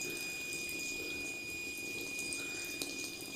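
Water runs steadily from a tap into a basin while cloth diapers are washed by hand, a continuous close splashing rush with no voices.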